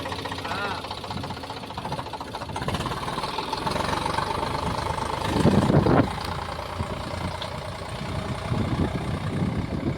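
A tractor engine idles nearby with a steady low rumble and a slight surge midway. Faint voices can be heard underneath.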